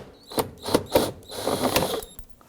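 A ratchet loosening 7mm fasteners on a Ford F-150 rear door panel, a few quick bursts of clicking ratchet strokes up close, followed by a short pause.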